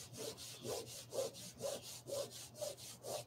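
A cloth rubs back and forth over a watercolor painting in rhythmic strokes, about seven even swishes, close and soft.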